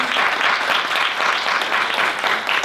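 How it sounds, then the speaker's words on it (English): Summit audience applauding international students, dense continuous clapping from a crowd filling the room with no talk over it. "Can we have a huge round of applause for them?"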